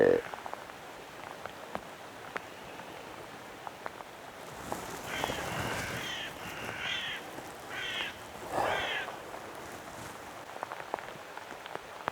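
Steady rain patters on a surface outdoors in Buffalo County throughout, with occasional drops ticking close by and a few bird calls faintly in the distance.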